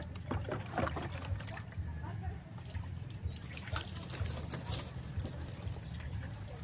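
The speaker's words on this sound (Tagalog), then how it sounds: "Babanlawan na lang ng tubig." Water being splashed and poured over a pumpboat engine to rinse off soap, a steady trickling wash with running liquid and intermittent voices mixed underneath.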